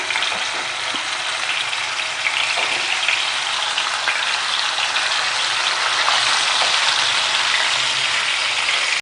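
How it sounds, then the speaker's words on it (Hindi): Fish tikka fries in a tablespoon or two of oil, a loud, even, continuous sizzle crackling throughout with no talking. "1-2 टेबल स्पून ऑयल में आपने इसको फ्राई करना है"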